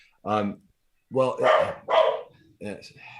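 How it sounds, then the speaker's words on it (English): A pet dog barks at home, excitedly greeting a family member who has just arrived, giving four loud, close barks in uneven bursts with short pauses between them. "Sorry for my dog barking."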